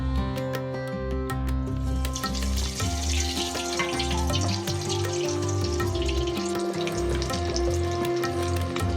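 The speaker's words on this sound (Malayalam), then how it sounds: "കട്ട്ലറ്റ് റൊട്ടിപ്പൊടിയിൽ മുക്കി കഴിഞ്ഞു. ഇനി ഫ്രൈ ചെയ്യാൻ പോവുകയാണ്. എണ്ണ ചൂടായിട്ടുണ്ട്. എണ്ണയിലേക്ക് ഇടാൻ പോവുകയാണ്." Kerala-style beef cutlets coated in breadcrumbs fry in hot oil, a continuous sizzling hiss heard steadily beneath prominent music throughout.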